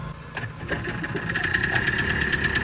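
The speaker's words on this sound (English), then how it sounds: "And it's just a little moped engine." A small two-stroke moped engine in a microcar runs steadily at a fast idle, its buzzy, rattling drone close and continuous throughout.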